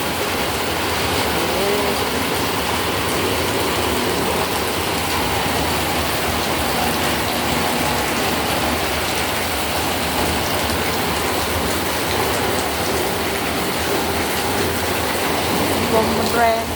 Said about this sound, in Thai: พามาชมบรรยากาศยามฝนตกเขาเพื่อน ตก หนักแล้ว